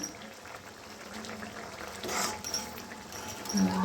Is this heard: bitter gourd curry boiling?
yes